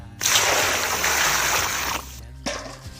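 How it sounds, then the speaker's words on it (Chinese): Water is poured over sheep trotters for washing in a herder's kitchen, a steady splashing stream lasting about two seconds, then a short extra splash, near and clear. "羊蹄子先好好洗洗，弟弟倒水"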